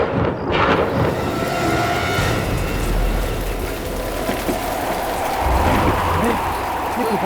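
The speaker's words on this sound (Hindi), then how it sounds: "अचानक की हवाएं कैसे चल रही हैं? इतनी तेज हवा, वो भी कब्रिस्तान में।" Sudden storm with strong, gusting winds sweeping through a graveyard, a loud, continuous roar with rumbling low-end buffeting and a rain-like hiss that holds steady throughout.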